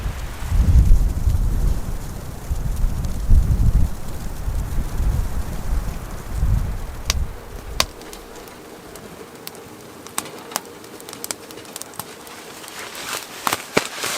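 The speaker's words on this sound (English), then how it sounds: "Wind is raging outside, snow is blowing" Strong wind roars and gusts against a tent during a snowstorm at -28° while winter camping near a lake, loud and continuous at first, then easing into a lower steady rush with scattered sharp flaps and ticks.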